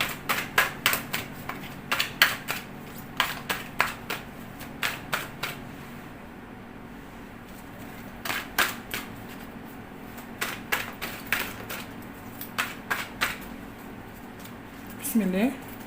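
Tarot cards dealt and laid out one by one, a series of crisp slaps and flicks in irregular bursts, close and fairly loud, with a short pause in the middle and a faint voice-like tone at the very end.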